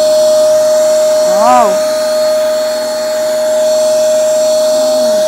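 A vacuum machine seals a bag of napier grass silage, a loud steady motor whine with a constant high tone running throughout, briefly joined by a voice exclaiming.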